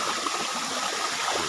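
A large, steady flow of water rushes through an irrigation canal at the start of the rainy season, a continuous broadband roar heard close and alone with no talking.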